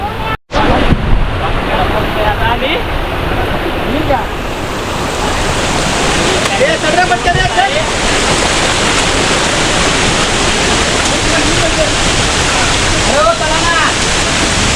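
The Waghbil waterfall near Badlapur, deep in forest, roars loudly and steadily nearby, a continuous rushing wash of falling water that fills the whole scene.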